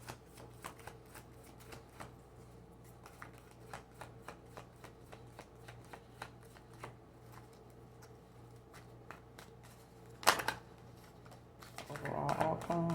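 Tarot cards are handled quietly in a series of soft taps and flicks before a brief riffle and a louder burst of card shuffling near the end, close and otherwise alone in a quiet room.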